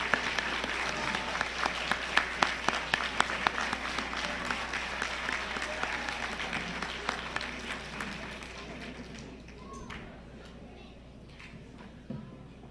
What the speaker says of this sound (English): So could we give them a standing applause?